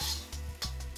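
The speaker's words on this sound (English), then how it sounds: "this is what you call flash frying your beef" Beef flash-frying in a hot wok sizzles loudly while a utensil stirs and scrapes against the metal in several quick strokes.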